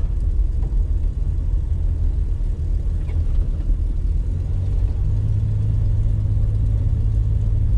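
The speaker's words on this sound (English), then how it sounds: "all I got to listen to is, well, the engine" Steady low engine rumble of a car pulling out of a driveway and driving along, with a continuous mid-pitched drone and faint road noise, no talk, no radio.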